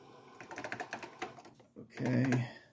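Keys clatter in a quick, uneven run on an Apple II+ computer keyboard, with a brief louder burst near the end, close and moderately loud, and no speech over it.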